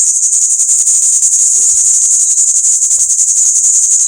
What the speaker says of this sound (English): they make these loud rattling noises